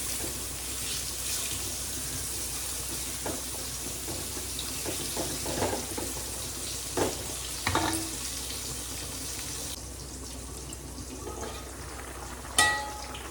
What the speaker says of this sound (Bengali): ভাজাগুলোকে একটু নাড়িয়ে দিচ্ছি।